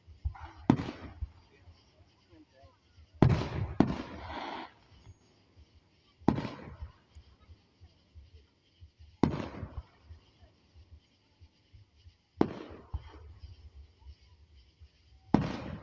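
Fireworks at a firework show give about six loud, separate booms spaced a few seconds apart, each with a short crackling tail and echo, while a voice talks quietly between the bursts.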